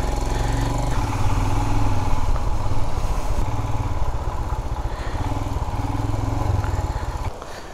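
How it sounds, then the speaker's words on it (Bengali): Motorcycle engine running steadily on a monsoon ride in North Bengal, a continuous low, throaty rumble held close and loud throughout, easing slightly toward the end. "এই হচ্ছে অভিকের বাইক"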